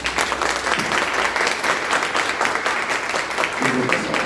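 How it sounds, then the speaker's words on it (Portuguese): A crowd at a Pink October health seminar applauds for five women on stage, dense continuous clapping filling the room at even volume throughout. "a salva de palmas para as 5 mulheres aqui que estiveram conosco"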